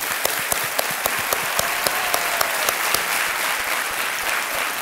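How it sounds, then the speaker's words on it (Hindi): A studio audience at a television quiz show applauds to welcome a contestant to the hot seat, a dense, loud, continuous wash of clapping with a few sharper claps standing out. "एक बार फिर तालियों के साथ इनका स्वागत।"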